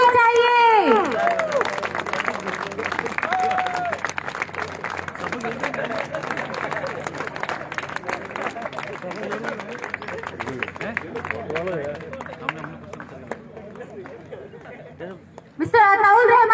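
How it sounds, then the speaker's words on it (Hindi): A crowd claps and chatters at a grand opening celebration of a depot, sustained applause mixed with voices and cheering, with someone talking over it at the start. "तालियां बंद नहीं होनी चाहिए"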